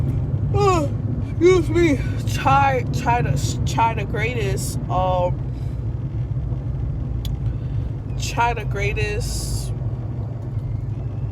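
Steady low engine hum and road rumble inside a moving car carry through the whole stretch, sitting under close, continuous talking from the driver.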